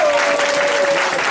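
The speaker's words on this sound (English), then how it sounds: "Let's give Jonathan's and all the waitresses a big round of applause." Reunion audience in a room applauding the waitresses, loud and close, a continuous wash of many hands clapping with a faint sustained tone running beneath.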